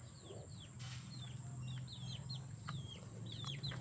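Chickens in a coop calling out, repeated short chirping clucks scattered over a steady low hum, at moderate distance and fairly quiet, with no talk.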